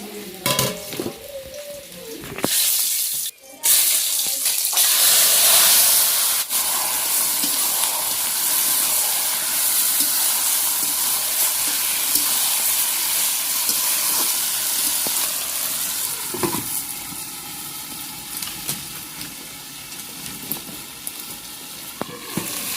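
Marinated mutton curry bubbling picnic-style in a pan over a clay wood stove, with a loud continuous sizzle and steamy hiss, a few early knocks and clatters, then a long even frying roar.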